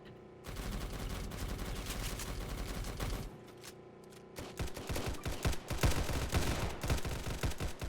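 Rapid automatic gunfire in a Roblox shooting game set at a border crossing, loud continuous bursts that pause briefly and then resume in choppier, heavier volleys, with no voices.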